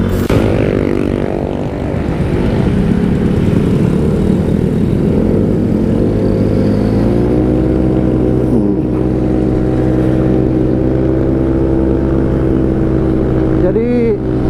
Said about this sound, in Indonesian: Jadi CVT-nya agak meraung, dia dibikinnya agak teriak, tapi atasnya naik perlahan gitu.